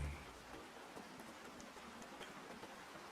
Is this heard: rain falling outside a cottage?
yes